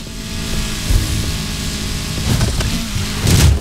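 A McLaren engine in the racing game Need for Speed Heat drones loud and continuous, with brief surges in intensity at intervals across the short stretch.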